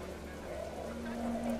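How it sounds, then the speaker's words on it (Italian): Steady rain in the video game What Remains of Edith Finch, a continuous even patter with a faint tonal hum rising partway through. "perlomeno ovviamente ha cominciato a piovere"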